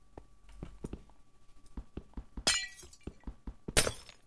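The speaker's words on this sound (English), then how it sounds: "We can break this glass, I guess." Glass panes shattering in a video game, two sharp bright breaks with tinkling debris, preceded by a run of soft rhythmic thuds.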